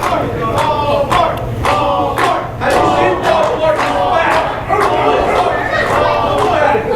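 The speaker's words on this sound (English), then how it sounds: "this crowd here in the Stronghold is trying to accuse Officer Dan of being a rent-a-cop" A wrestling crowd in an arena roars and chants in rhythmic bursts, dense shouting voices swelling and dipping continuously, with a commentator's voice heard over the noise.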